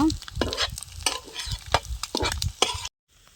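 Egg roast mixture being stirred and fried in a pan for a village-style egg roast chapati, with repeated scraping stirs over a steady sizzle, close and busy, stopping abruptly near the end.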